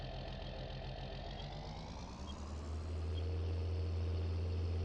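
A John Deere tractor engine idles in the Farming Simulator 19 game after an engine rebuild, a steady low drone that grows louder and fuller partway through, with no talk.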